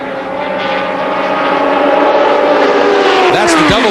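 An Aston Martin GT1 race car, number 007, in the 2006 American Le Mans Series, roars past close and loud, its engine note climbing and then dropping sharply in pitch as it goes by.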